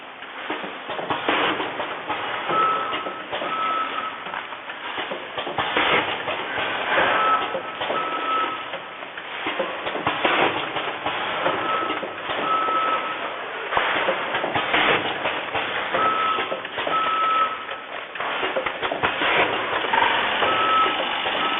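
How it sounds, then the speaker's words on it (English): Automatic granule sachet packaging machine running with steady mechanical whirring and rhythmic clicking cycles, plus repeated short high electronic beeps at regular intervals, continuous and fairly close with no talk. "Okay, let me run this machine to show you how it works."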